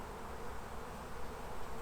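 Honey bees in a hive drone in a dense, continuous buzz close up while a varroa treatment strip is being set in place, with no talking over the steady hum.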